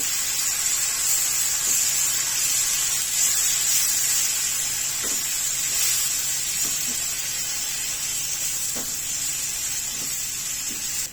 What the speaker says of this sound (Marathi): मिक्सरला जास्त वाटून घेतलेली चटणी फोडणीमध्ये घालून घ्यायची